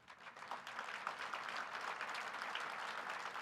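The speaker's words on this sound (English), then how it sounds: "Isidore, they're clapping for you" Audience applause at a convention, steady and sustained from start to finish, a dense wash of many hands clapping at moderate distance with no talk over it.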